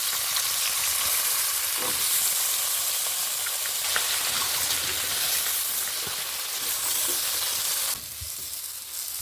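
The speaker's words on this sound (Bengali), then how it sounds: "এই সবজিটা ভেজে নেব।" Cut vegetable pieces frying in hot oil in a pan, with a loud, steady, close sizzle throughout that eases slightly near the end.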